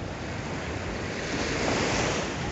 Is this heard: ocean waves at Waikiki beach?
yes